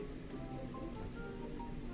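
Steady patter of hail striking surfaces in the Roblox game A Dusty Trip, with scattered sharper ticks over a dense, even wash of noise.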